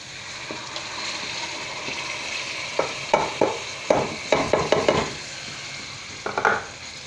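Chicken and purslane greens fry in a pot in a Sindhi home kitchen, a soft steady sizzle under a run of close scraping stirs that come in quick clustered bursts.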